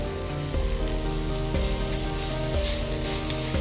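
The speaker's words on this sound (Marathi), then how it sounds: "आता या फोडणीमध्ये मी आपण शिजवून घेतलेली भाजी घालते" Cooked mahua fruit vegetable sizzles steadily as it goes into hot oil tempering with red chili masala, turmeric and coriander powder, a constant crackling hiss under tonal background music.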